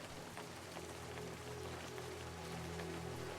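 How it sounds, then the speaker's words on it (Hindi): Heavy rain falling near the ruins of Hampi, India, a dense, continuous hiss of drops on surfaces, steady and fairly faint, with no voices heard. "जोरों की बारिश"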